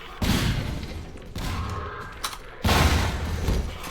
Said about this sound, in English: I have a nade, I can just toss it in.